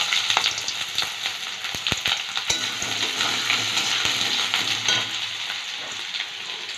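Chopped onion sizzles in a pan for tadka dal, a close crackling hiss broken by sharp spoon knocks and scraping stirs, with no voices.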